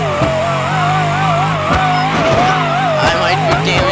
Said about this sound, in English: Try to burn out.